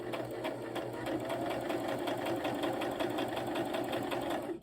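Brother LX3817 sewing machine stitching at steady speed, a fast even mechanical chatter running close and unbroken until it stops at the end.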